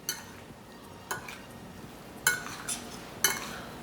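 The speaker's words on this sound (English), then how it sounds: "I'm going to get a fork and I'm going to mix them well." A fork mixing a ginger-garlic and pepper marinade into pork loin chops in a bowl, with soft stirring and a few distinct clinks of metal against the dish, close by.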